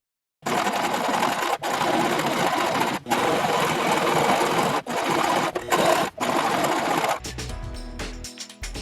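A sewing machine stitching fabric godettes together runs in loud, steady bursts with brief pauses between seams, then stops, leaving quieter handling noise at the end.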